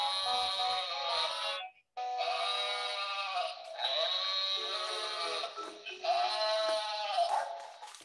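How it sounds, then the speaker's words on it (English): A toy sheep on a farm-animal sound toy bleats in long, bright, electronic-sounding calls, three repeated bursts close and clear with a brief gap between the first two. "The sheep in the meadow says ba ba ba all day long. Press the sheep."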